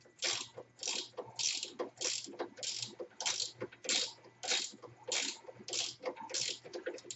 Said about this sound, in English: I guess basically the only thing a gear wrench is good for is to get into a tight place a socket can't get.